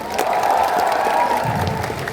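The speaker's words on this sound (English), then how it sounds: "let's give a round of applause for ourselves." A crowd at a community cultural gathering in Delhi bursts into loud, continuous applause mixed with some cheering. It holds a sustained, even roar for about two seconds.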